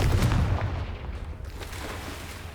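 A Confringo fire spell cast in the Hogwarts Legacy game lands with a heavy, booming low-end blast that rumbles and slowly fades over a couple of seconds.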